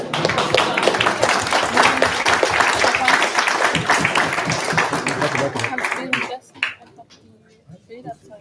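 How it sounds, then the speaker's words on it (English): Memorial gathering audience clapping: steady mixed applause with a few brisk hand claps and scattered voices, stopping abruptly near the end, leaving brief quiet murmurs. "You can clap, you can clap."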